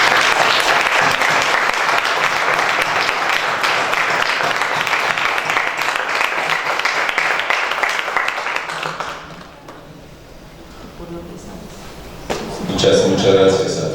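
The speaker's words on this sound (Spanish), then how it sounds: "Un aplauso." An audience at an architecture faculty talk about Miguel Fisac breaks into loud, sustained applause that lasts about nine seconds and then dies away. A voice speaks afterward.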